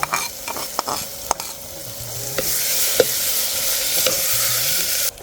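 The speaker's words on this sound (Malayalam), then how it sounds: "നമ്മുടെ ഓറഞ്ചിൻ്റെ തൊലി ഇട്ട് കൊടുക്കാം. അതും കൂടെ എണ്ണയിൽ കിടന്ന് ഒന്നങ്ങ് വഴലട്ടെ." Orange peel sautéing in hot oil in a pan for a curry, a steady close sizzle with scrapes and taps of stirring, growing louder and denser toward the end, with no talking.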